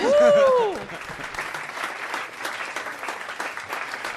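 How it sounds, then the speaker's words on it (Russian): An audience at a stage show applauds steadily with dense, moderately loud clapping, following a brief sung or called-out voice at the start. "хлопай там!"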